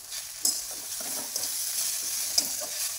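Soaked poha being mixed in a pan with salt and a little sugar, giving a steady bright frying hiss with soft spatula strokes and a couple of light metallic ticks, close and moderately loud.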